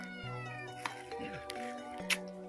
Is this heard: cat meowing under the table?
yes